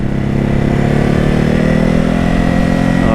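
A 2021 Ducati Hypermotard 950 SP motorcycle engine runs close and loud, giving a steady, throbbing twin-cylinder drone with no change in pitch throughout.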